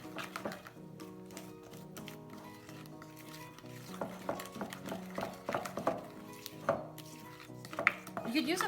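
Keto chocolate chip cookie dough mixed by hand in a bowl gives soft, irregular squishing and dull knocks against the bowl, getting busier and more rhythmic toward the end, with no speech.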